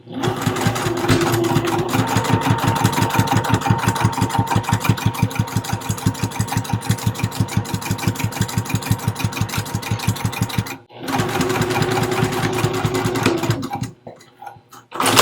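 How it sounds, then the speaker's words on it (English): A sewing machine stitches a few stitches forward and then backwards over fabric at a seam, a steady rapid mechanical chatter close by that runs for about ten seconds, breaks briefly, then resumes before stopping. "start sewing a few stitches forward and then backwards"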